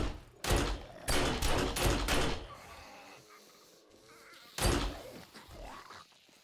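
Gunfire in the video game 7 Days to Die: four heavy, booming shots in quick succession, a quieter pause, then one more loud blast.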